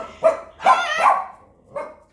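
A pet parrot mimicking a dog's bark, giving four sharp, yappy barks at uneven intervals, with the middle pair run close together and each one near and clear against a quiet room.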